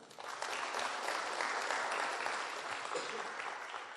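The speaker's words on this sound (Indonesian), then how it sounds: "Ya tepuk tangan dulu dong." Audience at a Tiens Indonesia network marketing seminar breaks into continuous applause, a dense, even wash of clapping that holds steady for several seconds before easing slightly.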